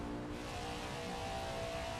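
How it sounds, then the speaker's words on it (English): Racing car engines from the video game NASCAR 21: Ignition, during the Coca-Cola 600 race, drone steadily at a moderate level, a continuous buzzing roar with no talking. "like actually hearing the rumble of the cars"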